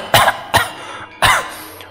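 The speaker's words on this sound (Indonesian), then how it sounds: "Aku batuk-batuk, berusaha melepaskan diri dari cengkraman itu." Three sharp, close coughs in quick succession, loud and isolated, with short pauses between them and no speech.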